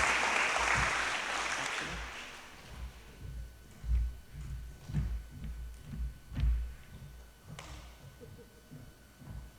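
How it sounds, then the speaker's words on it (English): An audience applauds the seniors at a high school senior awards evening, the clapping strongest at first and then fading away, leaving low thumps and room rumble behind. "Let's give them a round of applause"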